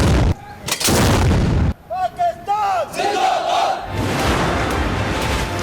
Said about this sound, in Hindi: यौम आजादी पर मुल्क को तोपों की सलामी भी दी गई।